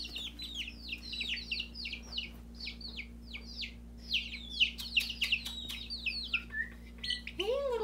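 Baby chicks chirp in a quick run of high, repeated peeps, close and fairly soft over a low steady hum, ending with a louder sweeping call.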